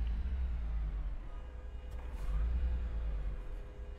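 Low, steady rumble of a semi truck's engine as it is given gas in American Truck Simulator, a deep droning hum with a mild swell partway through, heard alone without voices.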